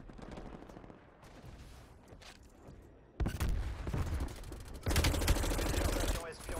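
An enemy automatic turret in Black Ops Cold War, firing rapid bursts of gunfire that grow loud and dense partway through amid game noise and a voice.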